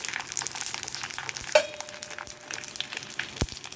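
Sun-dried vathal frying in hot oil in a home kitchen, a fizzing sizzle broken by scattered crackles and a couple of sharp pops.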